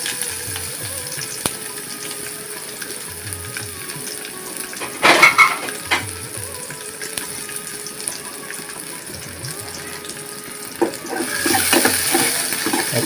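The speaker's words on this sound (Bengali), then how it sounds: "একটু ভেজে নিলাম।" Onion, dried chili and chopped garlic frying in oil, a soft continuous crackle with a brief louder burst of sizzling partway through and a hissing rise near the end.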